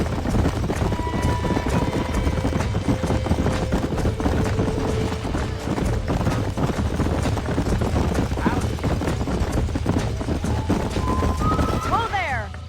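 Horse hooves clip-clopping in Red Dead Redemption while breaking in ranch horses, steady hoofbeats under game dialogue, with a brief whinny and mechanical noises near the end.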